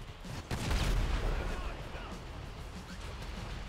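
Gunfire during a shootout in Grand Theft Auto V's Paleto Score heist, a dense loud burst of shots and booms early on, then continuing rumbling combat noise, with voices heard under it.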